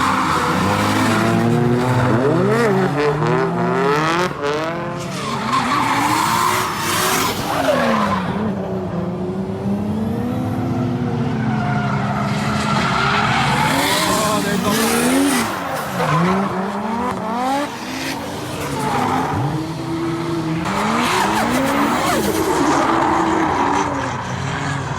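Toyota Mark II JZX drift car at a drift day, engine screaming through a corner with rising and falling revs, loud tire squeal and skidding, and crackling exhaust pops, close and continuous throughout.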